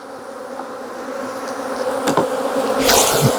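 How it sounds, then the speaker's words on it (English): Honey bees shaken from a hive box while splitting pollination colonies make a dense, loud, close buzzing swarm that swells toward the end, with a dull knock partway through and no talking. "we're going to shake all the bees into the bottom"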